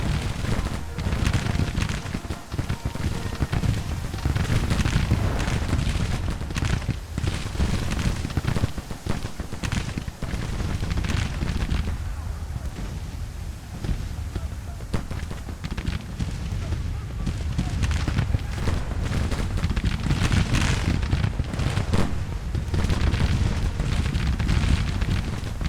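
Massed musket and artillery fire from a Civil War battle in Grand Tactician: The Civil War, a dense, continuous rumble of booms and crackling volleys under steady talk.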